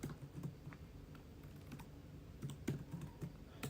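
A computer keyboard tapped in soft, quick bursts of keystrokes with brief pauses, faint and close in a quiet room.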